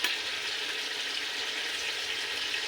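Frozen curd drops into a hot pan for chicken pulao and sizzles steadily, a continuous hiss of frying at moderate level with no voices.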